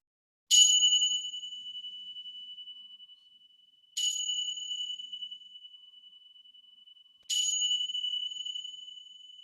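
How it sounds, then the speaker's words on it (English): Three bell strikes ring out at the close of a yoga relaxation, each a clear bright ding spaced a few seconds apart that rings on and slowly fades in otherwise quiet surroundings. "let the sound of the bells guide you back to your physical body once again on the mat"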